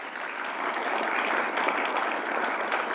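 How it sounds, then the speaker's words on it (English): Steady, dense applause from an audience at a university leadership and service awards ceremony, sustained and fairly loud throughout. "Give another round of applause for R. Rod."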